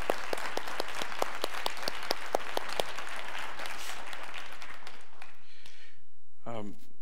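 Audience applause welcoming Dr. Starsky Wilson to Christ Church at a faith forum, a steady clapping crowd that swells and then fades out over several seconds, followed by near silence.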